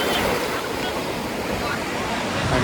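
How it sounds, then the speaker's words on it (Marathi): Sea waves wash continuously onto Om Beach in Gokarna as a steady broadband surf roar, close and even, with slight swells at the start and end and no talk over it. "अशा लाटा आहेत"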